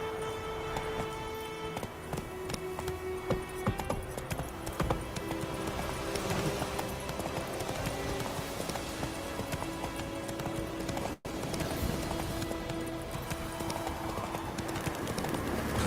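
Roach, a horse in The Witcher 3 video game, gallops steadily with continuous rhythmic hoofbeats over a musical soundtrack, with one very brief dropout near the end.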